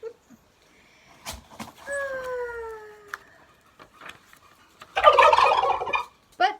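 A turkey on a farm gobbles once in a short descending warble, followed by a louder burst of rough squawking and scattered clicks and knocks nearby.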